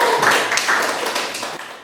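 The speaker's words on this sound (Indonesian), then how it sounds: "Tepuk tangan dulu" Students give a short round of applause, a dense burst of many hands clapping at once, fairly close and fading over about two seconds.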